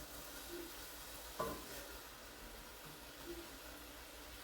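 Ground meat cooking on a stove is stirred, giving quiet scrapes with one sharper clack, over a faint, steady sizzle.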